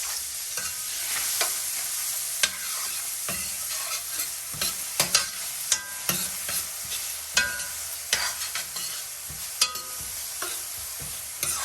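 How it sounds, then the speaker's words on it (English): Finely chopped onion sautés in a pan for a creamy oyster mushroom stroganoff, a steady close sizzle broken by repeated scraping and stirring knocks throughout, with no voices. "we want to saute it and it's go until it's soft and translucent"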